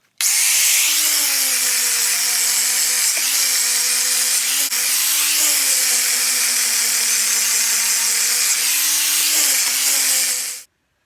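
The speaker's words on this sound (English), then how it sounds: "We'll hook the wire brush up on the other angle grinder and we'll get this all cleaned up" An angle grinder spinning a wire brush scours rust off steel for spoked wheels, a loud continuous abrasive whine and rasp that runs steadily for about ten seconds, dipping briefly a few times as pressure changes, with no talking.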